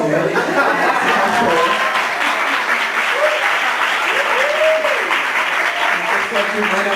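Applause from a university symposium audience in Brazil, a dense steady wash of many hands clapping throughout, fairly loud, with a few voices briefly audible in the mix.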